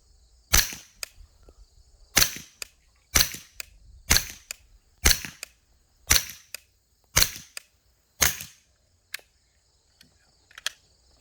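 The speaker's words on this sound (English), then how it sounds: "That wasn't a great shot, Elliot." A 9mm Scorpion fires about eight sharp shots at a steady pace during outdoor test firing, followed by a couple of fainter cracks. Each report sounds at a moderate distance, and there is no talking.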